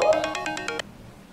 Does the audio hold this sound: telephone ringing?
yes